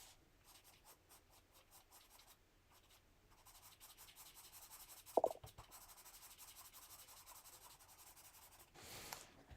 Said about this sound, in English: Pastel pencil blending.